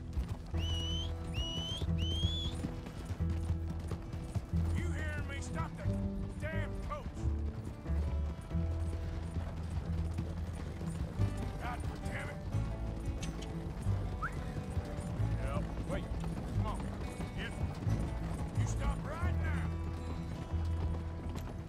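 Horse hooves clip-clopping in the Western game Red Dead Redemption, a steady, moderately loud plodding rhythm under music and background game sounds, with a few brief whinnies and mechanical clicks mixed in.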